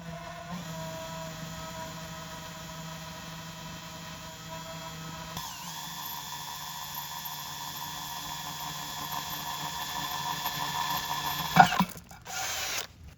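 A power drill with a normal bit bores small holes into a ceramic pot, giving a steady, moderately quiet whirring grind that rises slightly before abruptly stopping near the end.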